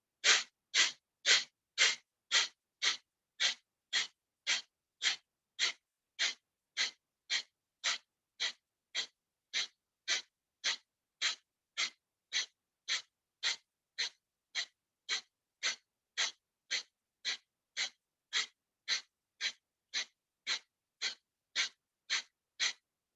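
Rhythmic yoga breathing exercise of forceful exhales and inhales, done as a therapeutic practice for knee pain. Around thirty-five sharp, even breath pulses repeat at a steady quick pace, close and clear against silence.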